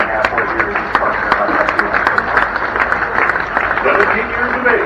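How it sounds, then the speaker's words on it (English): Audience applause in the grandstands at the Tomah tractor pull, Wisconsin, a steady wash of crowd clapping and noise with a voice carrying over it. "Let's give him a nice round of applause, fans."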